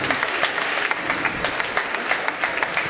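An audience applauds after a Kempo demonstration, a steady dense patter of many hands clapping, close and sustained throughout with no pause.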